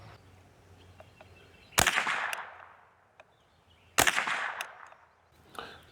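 A Savage Model 64 .22 rifle fires CCI Mini Mag 22LR rounds outdoors: two sharp, loud reports about two seconds apart, each trailing off in echo, with a fainter click near the end.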